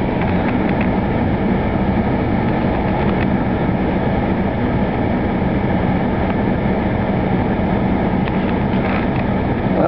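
A graffiti-covered freight train passing in Nampa gives a steady, loud rumble of heavy rolling machinery with rhythmic clanking and metallic rattles, continuous and close.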